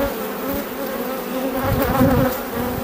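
Honeybees at an open production beehive, a dense close swarm buzz with steady droning tones that swells slightly louder toward the end, with no talking.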